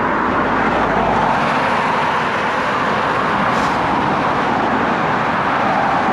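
Steady, loud traffic roar on the busy A390 road through St Austell, heard from a bicycle, a constant broadband wash of passing cars with no break across the clip.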